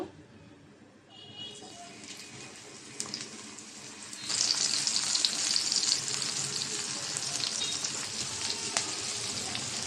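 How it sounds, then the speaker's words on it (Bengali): Puti fish sizzles in hot oil in a pan, starting as a soft crackle and jumping to a louder, steady hiss midway that stays dense and close to the end. "মাছটা ভেজে রান্না করব"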